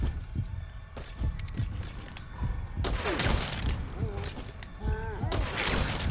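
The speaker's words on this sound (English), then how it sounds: "They heard a gunshot, that was it." Gunfire in the Metal Gear Solid 5 video game: a few sharp, fairly loud bangs and impacts set among game background noise and effects, with someone talking intermittently over it.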